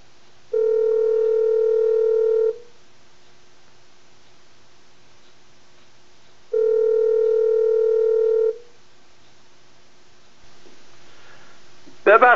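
A steady telephone dial tone sounds twice in long two-second stretches separated by silence on a faulty phone line, followed by faint line noise and a brief burst at the end.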